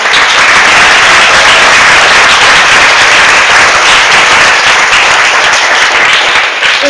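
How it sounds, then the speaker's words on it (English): A large audience at a panel discussion on a population white paper applauds the panelists, with dense, sustained clapping that stays loud and steady throughout, no voices above it. "Can we all give another round of applause to them?"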